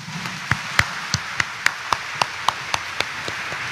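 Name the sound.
church congregation clapping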